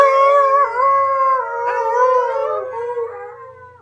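Several people howl together in imitation of a werewolf, long wavering drawn-out voices rising and falling close by for nearly four seconds, loud and clear with no talk.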